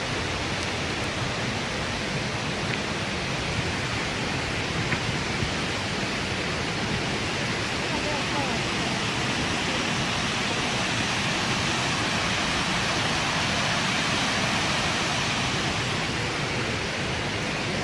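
A huge, powerful waterfall heard as a constant, loud, broadband roar of crashing water that holds steady without pause for the whole stretch.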